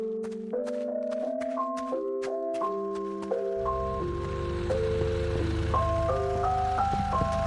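A tinkling ice cream truck jingle plays in a horror video game, a stepped electronic melody of bright tones that starts thin and then thickens with a low droning bass layer, playing on without voices.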